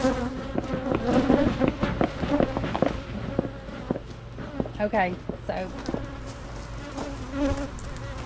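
Honey bees buzz loudly and constantly around a beekeeper working hives on a homestead, with rising and falling drones of individual bees passing close. People talk over the swarm.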